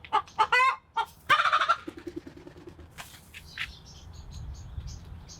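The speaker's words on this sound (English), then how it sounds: "We also learned that one of the hens was actually a rooster." Backyard chickens, a rooster among the hens, giving a run of close, loud clucks and squawks in the first two seconds, then softer scattered calls over faint outdoor background.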